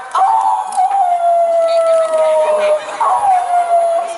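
A human voice imitates a long, drawn-out dog howl, sustained and wavering, then rising again for a second howl.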